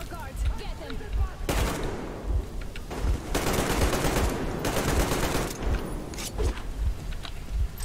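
Rapid automatic gunfire from a weapon in the video game Metro comes in several loud, sustained bursts of closely spaced shots separated by short pauses, with a voice talking over parts of it.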